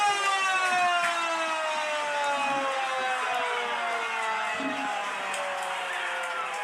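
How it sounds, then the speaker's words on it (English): A loud, sustained siren wails with a slowly falling pitch, with faint crowd noise and a voice underneath, at a varsity championship game against Bothell. "And there goes the siren."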